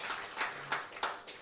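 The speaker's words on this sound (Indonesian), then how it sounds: "Tepuk tangan dulu buat Tuhan Yesus" A church congregation claps for Jesus during a service, a few soft hand claps in a quick irregular run, faint and somewhat distant.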